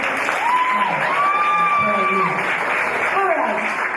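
An audience at a press conference and launch party claps and cheers throughout, with whoops and raised voices mixed into the applause.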